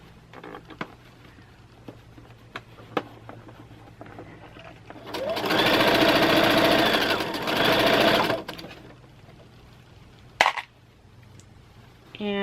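A sewing machine stitches a dust cover for an Accuquilt Studio die cutter, running in a loud steady burst of about three seconds, then stopping briefly and starting again, amid quieter handling clicks before and after.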